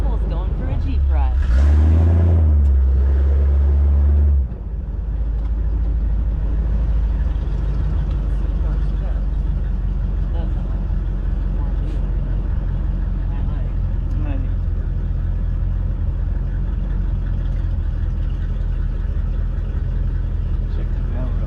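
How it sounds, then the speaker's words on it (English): A Toyota FJ40 rolls along with a steady low engine and road rumble, near and continuous, and a voice chatters loudly over it near the start. "Campbell's going for a Jeep ride."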